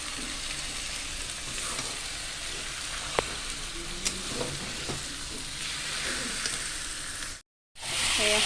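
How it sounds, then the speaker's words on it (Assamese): Pieces of duck meat fry in a pan with a steady, close sizzling hiss and occasional scraping taps of a stirring utensil, briefly cut to silence near the end before the sizzle resumes. "হাঁহৰ মাংস ভাজি আছোঁ।"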